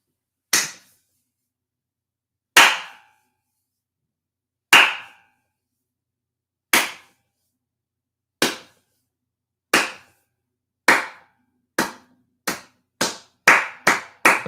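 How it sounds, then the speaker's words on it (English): A single person's slow clap, with sharp, isolated claps that start far apart and then speed up into a quicker run near the end, loud and close against silence. "Slow clap for Rose."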